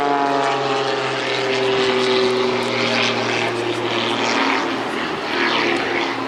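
A Pitts Special aerobatic biplane with an added jet performs at an airshow, its propeller engine droning loud and steady with a strong sustained tone throughout, heard nearby and alone.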